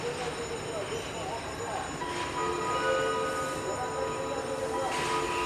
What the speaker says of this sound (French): Attention, dégagez les voies, deux trains rentrent en gare.